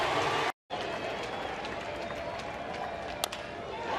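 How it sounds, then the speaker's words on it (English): Baseball crowd at a Cincinnati Reds home game cheering and applauding after a walk-off win, a dense continuous roar of clapping and cheers with a brief dropout near the start, no talk over it. "Big crowd. Yes, indeed, they're happy."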